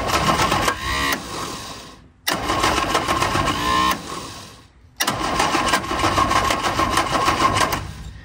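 An Innocenti Spyder's engine cranks in three rapid, whirring bursts separated by brief pauses, each a fast rhythmic chugging that never quite catches, loud and close.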